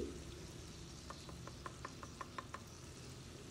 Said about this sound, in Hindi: हमें इन टमाटर के पीसेस को इस तरीके से क्रश करना है चम्मच की मदद से ही